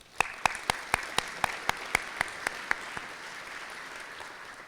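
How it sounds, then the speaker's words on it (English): Audience applause at a congressional update event sounds as a steady crowd clapping wash, with one nearby pair of hands striking about a dozen sharp, evenly spaced claps before fading into the background. "Let's give Lori and her team a round of applause."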